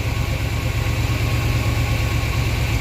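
A car engine idles steadily right after starting, a continuous low rumble with a faint rhythmic pulse, close and loud with no talking.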